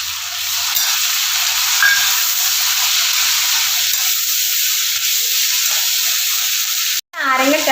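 Onions for beef pickle frying in a pan while being stirred, a steady close sizzle and hiss running almost throughout with faint scraping, cut by a brief gap near the end followed by a short burst of noise.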